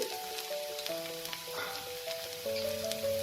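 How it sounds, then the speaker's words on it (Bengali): Chopped garlic, about a tablespoon, frying in the oil left from frying fish pieces, giving a steady soft sizzle with brief clicks, heard alone over a faint musical background. "এবার এতে যা তেল আছে, এই তেলেই আমি 1 টেবিল স্পুন রসুন কুচি"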